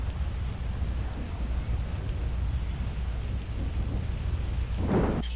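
A thunderstorm with steady rain fills a GTA roleplay game, a continuous rushing hiss with low rumbling underneath, and a brief louder burst near the end; no one speaks.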